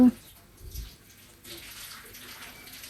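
Water poured into a pot of sago for a vegetarian sago pulao: a soft, low splashing and trickling, with a voice talking over it.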